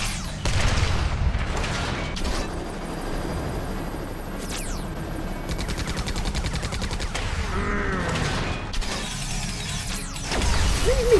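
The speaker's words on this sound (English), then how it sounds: "There go the missiles." Missiles explode during a battle in the strategy game Codex of Victory, giving a dense, continuous rumble of blasts and gunfire-like bursts with sweeping whooshes layered over it, loud throughout the clip.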